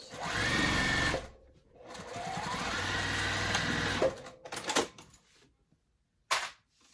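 A sewing machine back stitching, with a fast whirring run, a brief pause, a longer run, then several short stop-start bursts and clicks of the machine, close and clear without talk.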